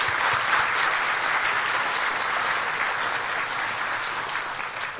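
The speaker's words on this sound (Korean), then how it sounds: "큰 박수 다시 부탁드리겠습니다." Steady, full applause from a large audience at a Korean-American community dinner gathering with the president, continuous and close throughout the span with no speech over it.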